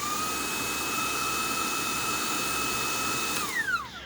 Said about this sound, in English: the vacuum stays on until I push the trigger again